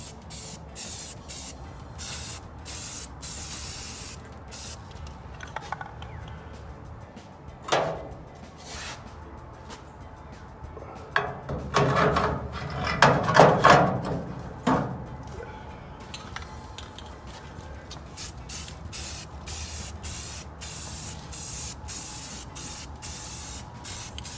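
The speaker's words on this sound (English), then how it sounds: "Putting a light coat of primer on this." A spray can lays a light primer coat on a Willys Jeep seat strap, giving repeated short hissing bursts, with a longer, louder cluster of sprays in the middle; no one speaks.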